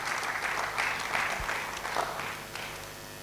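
Audience at a public lecture giving a round of applause to welcome a guest speaker, a full burst of many clapping hands that swells and then gradually thins out toward the end.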